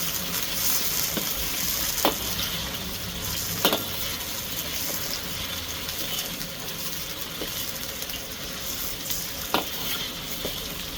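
Beef is par-cooked by stir-frying in oyster sauce in a pan, with a continuous close sizzle and occasional sharp clacks of the utensil against the pan scattered through.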